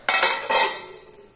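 Metal clatter as a lid is set over a kuzhi paniyaram pan, two or three close knocks in quick succession that ring briefly and fade; no voices.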